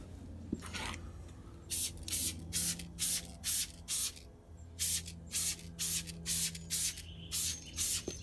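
A spray bottle misting cleaner onto a car wheel, about a dozen short hissing bursts in a steady rhythm, close and loud with brief gaps between squeezes.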